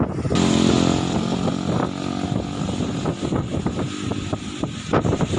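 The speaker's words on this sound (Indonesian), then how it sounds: "Hujan yang disertai angin kencang melanda kawasan Jembatan Merah Putih di Ambon, Maluku." Strong wind with rain sweeps across the Merah Putih bridge in Ambon, Maluku, a loud continuous roar of gusts buffeting the microphone, with passing vehicle noise and scattered thumps.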